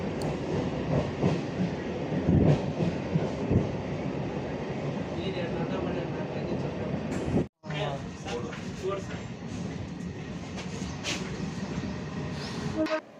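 A passenger train running on its rails, a steady dense rumble with rattling carriage noise throughout, briefly cut near the middle, with people talking faintly underneath.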